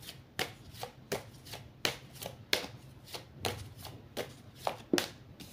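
A deck of oracle cards is shuffled by hand, repeated crisp riffling bursts at a steady rhythm roughly every half second, close and moderately quiet without speech.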